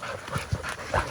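Hunting dogs that caught a young boar pant in a few quick, close bursts, with a small whimper mixed in, and no voices over the short stretch.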